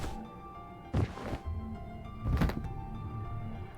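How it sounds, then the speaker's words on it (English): Two dull thuds of a body falling in the video game Virtue's Last Reward, about a second and a half apart, over a low steady background hum. "And the louder thud must have been Kay."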